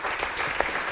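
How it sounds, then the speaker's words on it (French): Brief burst of audience clapping at a press conference, dense and fairly close, lasting only a moment. "on peut l'applaudir"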